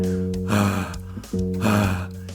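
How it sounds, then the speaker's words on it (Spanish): A singer forces heavy airflow through the ventricular folds, producing a rough vocal rattle layered over sustained low sung tones, two loud growling phrases with a brief gasping pause between them. "fíjense que acá empieza a generarse un ronquido"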